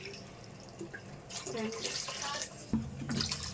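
Water is poured from a glass into a cooking pot while bottle gourd upma is being made, about four glassfuls in all. A splashing, rushing pour starts partway through, pauses briefly, then resumes at close range.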